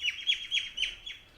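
Crows calling as they are chased away outdoors, a series of about five short, sharp caws in quick succession, moderately close and fading slightly at the end.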